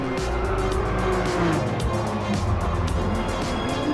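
An Aston Martin DB11 on a race circuit: a loud, steady engine roar runs throughout, with tire noise, close and continuous, and no talking.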